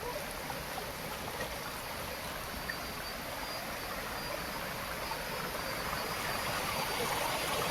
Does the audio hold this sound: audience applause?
no